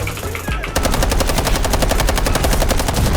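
A gun firing in the shooter game Delta Force: after a brief pause, a rapid, unbroken stream of automatic shots, loud and close, with no talk over it.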